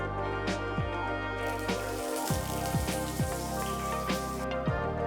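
Curry leaves frying in two tablespoons of oil in a pan, giving a steady close sizzle and crackle, with a tonal hum underneath and no talking.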